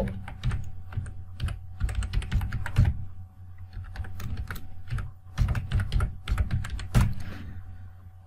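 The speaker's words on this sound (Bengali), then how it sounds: "তাহলে আমরা তার ইমেইল আইডিটা লিখব।" Rapid clicking of a computer keyboard as an email address is typed into a tender form, bursts of close keystrokes with short pauses between them and no voices.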